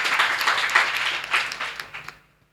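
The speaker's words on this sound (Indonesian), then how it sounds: "Tepuk tangan untuk teman kita" An audience claps in a talk show setting, a burst of applause from many hands that is strong at first, then thins out and fades to silence near the end.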